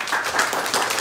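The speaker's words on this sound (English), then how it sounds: "let's give her a round of applause" Applause from a small gathering at a City Island community meeting, a steady wash of hand claps lasting about a second, moderately loud and close, with no talk over it.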